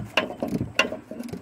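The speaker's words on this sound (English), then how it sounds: "I just tightened that down with the ratchet." A hand ratchet clicks in a few quick pulls while tightening a shock extension bolt on a 2002 Ford F350, close and fairly quiet with no talk.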